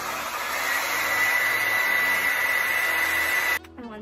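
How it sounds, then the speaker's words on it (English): A blow dryer whirs steadily and close for several seconds, then cuts off abruptly near the end. "take your trusty dusty blow dryer and blow dry it"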